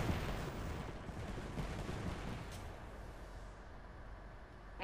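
Sustained, loud gunfire in a chaotic Apex Legends firefight, with dense overlapping shots merging into a continuous roar that eases slightly toward the end and then picks up again.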